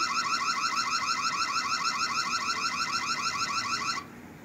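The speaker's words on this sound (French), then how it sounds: "On peut mettre une sirène d'alarme." A loud electronic alarm siren from a home security camera wails in a rapid, repeating warble for about four seconds, then cuts off abruptly, leaving faint background noise.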